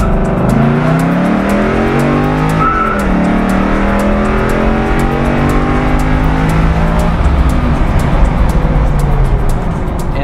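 A 1960s Ford Mustang engine revs and accelerates loudly and close, with rising and falling gear pulls and a brief tire squeal, the throaty roar continuous throughout.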